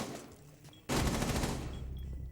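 SMG-11 submachine gun fire in Rainbow Six Siege, a sudden loud sustained burst of rapid shots starting partway in and running to the end, following a quieter stretch.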